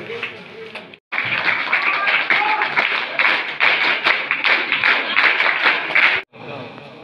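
An audience at a school award ceremony bursts into loud, dense applause that holds steady for about five seconds before stopping abruptly, with brief talk on either side.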